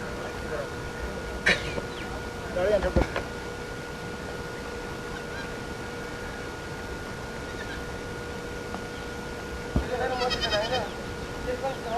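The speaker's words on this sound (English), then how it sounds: "Some young goats jumping on a rock." Young goats jumping on a rock in the hills of Sankhuwasabha, Nepal, give a few short, scattered bleats over a steady background hiss and hum, with a voice faintly present.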